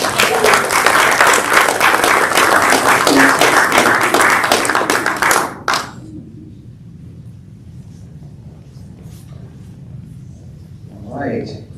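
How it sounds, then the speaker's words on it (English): An audience at a county spelling bee applauds, dense sustained clapping filling the hall for about five seconds before stopping abruptly, leaving quiet room tone and a brief murmur of a voice near the end. "Let's have a round of applause."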